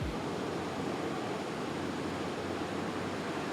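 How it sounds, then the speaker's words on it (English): Steady outdoor ambience of water by the shore, a broad unbroken hiss of lapping water and breeze that stays at one even, moderate level throughout with no voices. "I'm gonna make sure that I get a totally neutral sound for this area with the water, birds chirping, maybe some cars"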